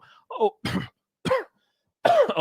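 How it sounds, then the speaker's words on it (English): A few short, close coughs and throat-clearing bursts, separated by brief silences. "I'm coughing."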